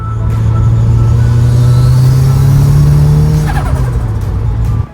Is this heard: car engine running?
yes